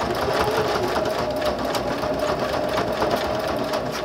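Sewing machine back stitching a fabric cover for a luggage or backpack handle, a steady dense mechanical whir running continuously and close at a constant pace with no talk.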